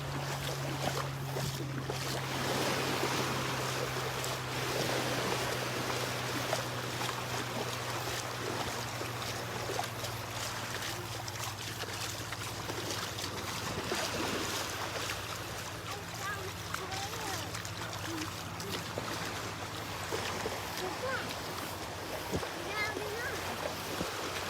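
Ocean surf at Delnor-Wiggins beach washes in a steady, broad rush with wind noise during a morning beach walk, continuous and fairly close, with talking mixed in.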